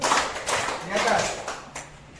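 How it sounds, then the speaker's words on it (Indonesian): Hand claps from a counting clap game in a school session, landing in a loose rhythmic series of sharp, close slaps while voices talk and chant over them. "Tepuk satu, tepuk dua, tepuk tiga."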